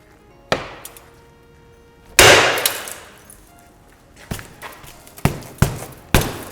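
Tempered glass fitted with security film is struck repeatedly in a live school security demonstration, with sharp, loud clanging impacts, one heavy crash followed by a rattle, then a run of irregular hard blows.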